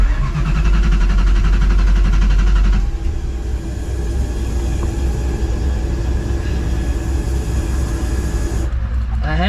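A 1999 Ford Mustang GT cranks and tries to catch: a loud, close, churning starter-and-engine roar for about three seconds, then a rougher, lower running rumble that cuts off near the end.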